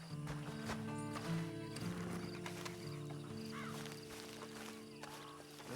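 A horse in the Red Dead Redemption 2 video game gives soft hoof clip-clops under a sustained tonal game soundtrack at a low, distant level.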